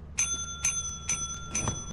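A small bell in the horror co-op video game Lethal Company, struck four times in an even rhythm, each bright ding ringing briefly over a low hum of game background noise.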